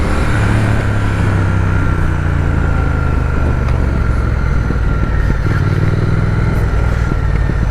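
A Triumph motorcycle engine running through its stock exhaust, with a steady, loud, close-up drone and a deep low rumble that holds throughout with slight swells.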